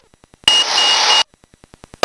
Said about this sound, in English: That's the beeping sound you hear.